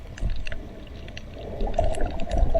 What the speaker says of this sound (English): the ocean crackles